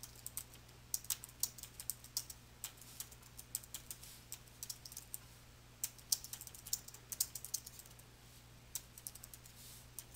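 Typing on a computer keyboard sounds as quick, uneven, faint key clicks that run steadily over a quiet background hum.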